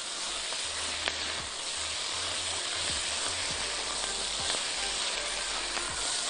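Sausage and bell peppers sizzle in a frying pan as they are stirred for freekeh fatteh, a constant soft frying hiss with small scraping ticks scattered through, heard close and alone.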